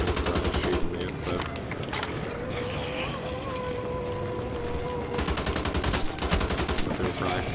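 Rapid bursts of automatic gunfire from the video game Wolfenstein: The Old Blood crackle at the start and again near the end, with a low droning hum in between.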